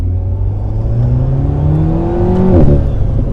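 An Alpine A110 R's 1.8-litre, 300 hp engine revs up with rising, deep bassy tones and audible intake, climbing steadily in pitch before a sharp blip near the end, close and loud.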